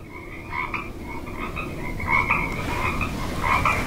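Recorded frog croaks play through a small Divoom Timebox Mini Bluetooth speaker, a steady chorus of repeated ribbity calls with a low background hum, moderately loud and close, growing slightly louder toward the end.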